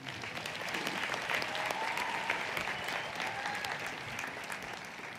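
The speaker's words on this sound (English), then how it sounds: "I'm sure we are allowed to give them a round of applause." An audience at a medical admission ceremony for diplomates in Johannesburg applauds steadily, a dense, even wash of many hands clapping for several seconds with faint voices mixed in.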